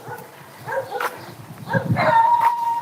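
Several dogs barking outdoors in a city during a dog's on-leash walk: a burst of close, fairly loud barks, with a sustained whistle-like tone near the end.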